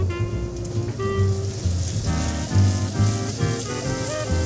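Potatoes sizzle and crackle steadily in a hot pan, a dense rain-like hiss running throughout with tonal music playing over it.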